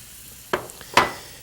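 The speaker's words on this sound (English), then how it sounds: "give it a final stir" Cream and black pepper being stirred into a pan of food just off the flame, two or three quick spoon scrapes against the pan over a faint background, close and brief with no voices.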